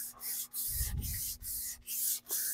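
A flat PRS guitar body coated in tung oil sealer is hand sanded with very light pressure: close, steady back-and-forth rubbing strokes, about five in a row with brief pauses between them, and no voices.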